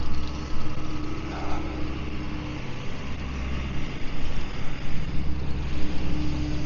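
A massive digger close by, its heavy diesel engine running in a steady low idling rumble with slight surges, heard over wind and ride noise.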